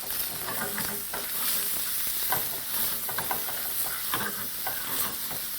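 A veggie rice and soy mixture fries in a pan with a steady, dense sizzle and hiss, broken by occasional soft scraping and stirring clicks, close and continuous.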